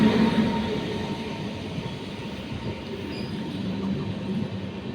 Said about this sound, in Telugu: ఫైనల్ గా మేము వెళ్ళే ట్రైన్ అయితే వచ్చేసింది ఇక్కడ